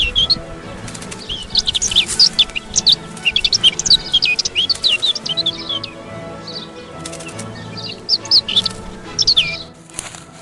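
A caged decoy songbird at an illegal trapping site in Cyprus scrub sings repeated bright, chirping phrases in quick bursts, loud and close, with a low background hum beneath.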